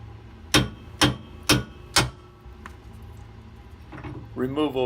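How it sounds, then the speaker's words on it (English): Four sharp metallic clanks come at an even pace as bolts are taken off trailer springs. A faint tap follows, then a voice begins talking near the end. "John Jr. is starting to take the bolts off of the springs and also remove the correct track"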